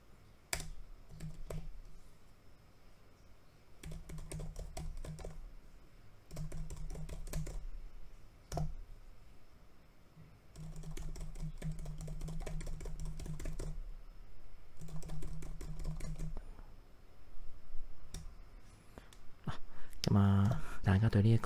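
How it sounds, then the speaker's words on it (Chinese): Keys clatter rapidly on the keyboard case of a BOOX Tab Ultra E-Ink tablet, in bursts of fast typing separated by short pauses, close and distinct, with a louder handling knock at the end. "大家對這個打字速度感覺如何？"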